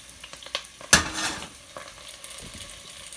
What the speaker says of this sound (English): Now start sauteing your veggies that we just cut and sliced and diced.